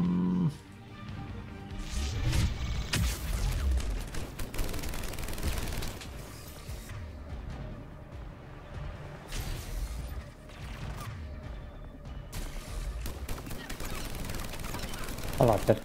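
Weapon fire in the game Mass Effect 3 on Rannoch, bursts of shots with crashes and mechanical clatter mixed with game sounds and a voice talking over parts.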